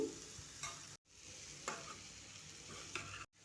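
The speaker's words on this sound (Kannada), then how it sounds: "ಹುರಿದು ಇಟ್ಕೊಂಡಿದ್ನಲ್ವ ಗೋಬಿ ಹಾಕ್ತಾ ಇದ್ದೀನಿ. ಎಲ್ಲ ಚೆನ್ನಾಗಿ ಮಿಕ್ಸ್ ಮಾಡ್ಕೊತಾ ಇದ್ದೀನಿ." Fried cauliflower is stirred into a sizzling pan for gobi palya, a close, steady frying hiss with soft scraping strokes of the spoon and two brief gaps in the sound.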